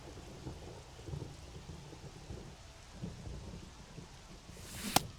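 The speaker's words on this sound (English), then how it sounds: "This rain is not letting up." Steady rain falls during a baseball game, a faint, even wash of drops that goes on without a break, with one sharp click near the end.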